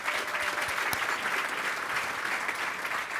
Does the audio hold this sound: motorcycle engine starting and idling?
no